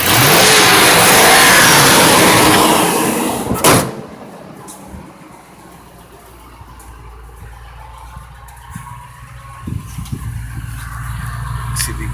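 A 2001 Ford Expedition engine starts cold and revs loudly and steadily for a few seconds. It then drops to a quiet, low idle rumble with occasional faint knocks and thuds nearby.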